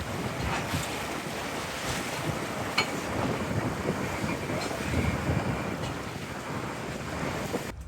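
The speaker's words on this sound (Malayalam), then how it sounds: "പക്ഷേ തിരകളിങ്ങനെ മറിഞ്ഞാണ് എല്ലാ തിരയും കാറ്റ് കൂടിയിട്ടേ തിര മറിഞ്ഞാണ്" Rough open sea pounds around a fishing boat as strong wind drives breaking waves, making a constant close roar of wind buffeting and surging water with no pauses.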